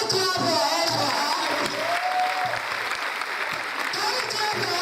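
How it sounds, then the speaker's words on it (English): An audience at a university mentoring event for female students claps in sustained, dense applause, loud and close, with voices mixed in. "can we clap your hands for her?"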